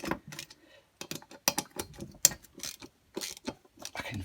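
A Torx bit works casing screws loose on a Stihl BG86 blower, giving close, quiet ratcheting clicks and short mechanical bursts in an irregular stop-start rhythm, with no talk.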